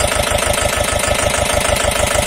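A Mahindra Jivo 245 DI 4WD tractor diesel engine runs loud and close at a steady idle, its rapid even thumping pulse unbroken throughout.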